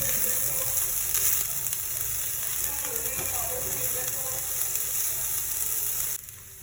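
Broccoli frying in a pan with turmeric and salt, a loud continuous sizzle with occasional stirring scrapes, close, dropping away sharply just before the end.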